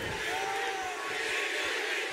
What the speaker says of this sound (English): And already you can hear the crowd getting up